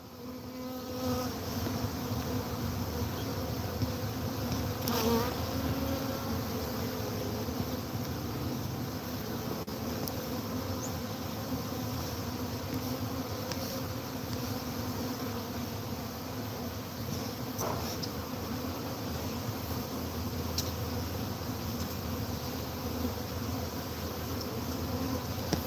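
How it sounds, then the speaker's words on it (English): Honey bees swarm and hum steadily around a beekeeper beside the hive outdoors, a dense continuous buzz with occasional louder passes as individual bees fly close. "They're just lighting on me and readying themselves to get back into the hive."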